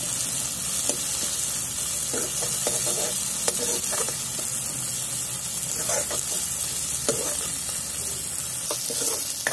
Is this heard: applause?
no